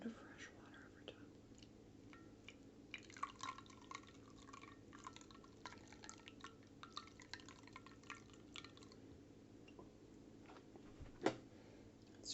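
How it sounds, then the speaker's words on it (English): Fresh water is poured over wet paintbrushes during soap-and-sponge cleaning, giving faint, close drips and trickles, soft scattered taps and splashes, and one sharper splash near the end. "just dump a little bit of fresh water over top."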